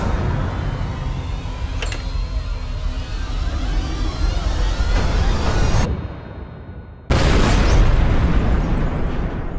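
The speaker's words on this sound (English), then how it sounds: "an explosion killed 4 men and destroyed the conference room" Bomb explosion destroying a conference room with a massive oak table, a loud sustained roaring blast that cuts to sudden silence before a second heavy rumbling burst of debris and noise.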